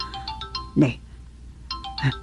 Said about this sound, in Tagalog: Cellphone ko yata ang naririnig